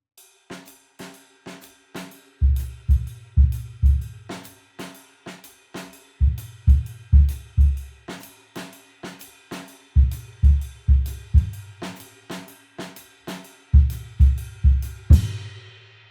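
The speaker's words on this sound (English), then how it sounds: "upbeat or ands between snare drum and bass drum." Jazz drumming with the snare drum and bass drum trading upbeats, crisp snare hits answered by deep kick thumps in a steady repeating pattern, played alone and up close.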